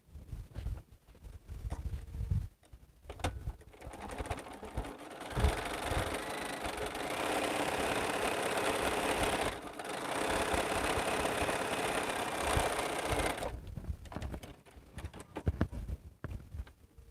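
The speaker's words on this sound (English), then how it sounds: "Now I'm going to stitch this one that I marked the line 1/2 inch over." A machine hums and runs steadily while stitching a quilt along a marked line, a continuous mid-level mechanical drone lasting most of the stretch with short pauses in between.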